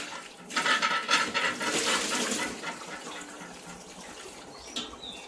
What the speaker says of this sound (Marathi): तर चांगलं 2-3 पाण्याने असं धुवून घ्यायचं, म्हणजे त्याचा कडूपणा जातो।